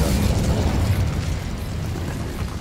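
In the Hogwarts Legacy video game, an Incendio fire spell goes off as a loud, rushing fiery burst. A rumbling roar fills the space and then slowly eases, with no talking over it.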